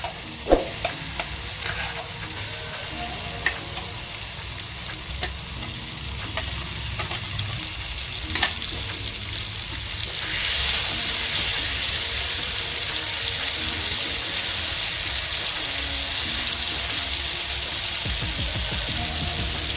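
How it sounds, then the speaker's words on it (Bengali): Chopped onions frying in a pan for a palak prawn dish, a continuous close sizzle with spatula scrapes and light taps, swelling into a louder, denser hiss about halfway through. "পেঁয়াজ কুচিগুলো একটু নেড়ে চেড়ে আমি ভেজে নেব।"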